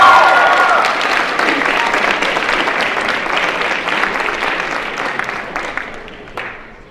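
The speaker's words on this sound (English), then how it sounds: "So let's cheer for them again." An audience at a school district All City Band concert breaks into strong applause and cheering that fades gradually over several seconds, dense clapping filling the hall.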